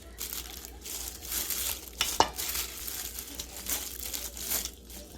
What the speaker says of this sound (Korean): 갈비 넣어서 양념을 골고루 묻혀서 재워놓겠습니다